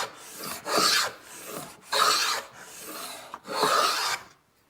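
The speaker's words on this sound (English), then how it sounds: "Super easy way to cut grooves." Bridge City Tools HP-6FX mini multi-plane cutting a groove in wood: three rasping shaving strokes, each about a second long with short pauses between, close and clear.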